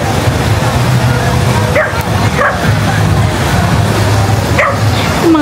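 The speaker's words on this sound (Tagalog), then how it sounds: "Yung mga aso ito naglalaro." Dogs play outdoors at dusk in Boracay, giving several short yips and barks in scattered bursts over a constant background hum.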